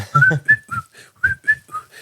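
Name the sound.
person imitating whistling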